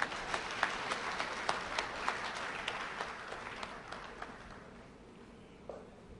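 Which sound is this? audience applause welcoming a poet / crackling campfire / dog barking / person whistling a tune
audience applause welcoming a poet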